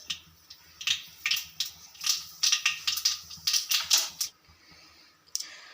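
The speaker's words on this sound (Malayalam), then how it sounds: "ഒരു 1/2 ടീസ്പൂൺ കടുക് ചേർത്ത് കൊടുക്കുന്നുണ്ട്." Half a teaspoon of mustard seeds sputters in two tablespoons of hot coconut oil, giving irregular bursts of sharp crackling pops that rise in a busy cluster and then thin out to a few last pops.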